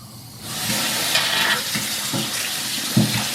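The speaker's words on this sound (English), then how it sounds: "you turn the cold tap on as well, so you're mixing it up" Hot and cold water pour steadily from two taps into a sink with a broad hiss, close by and alone, with a few brief bumps and splashes as hands move under the stream.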